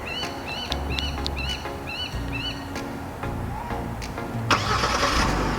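A Genesis GV80 SUV starting by remote control, with a low engine crank and rumble turning into a steady idle, while birds chirp repeatedly in the background and a louder rush rises near the end, with no talking.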